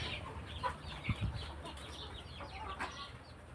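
Hens of a Thai fighting-chicken line clucking in short, scattered bursts against a steady farmyard background, with a couple of low thumps; no one speaks.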